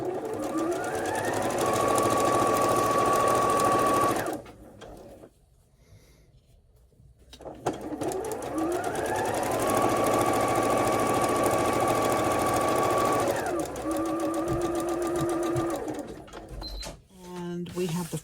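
A sewing machine stitches quilt rows in two long, loud, even runs of rapid whirring clatter separated by a short quiet pause, then a shorter burst that ends in clicks.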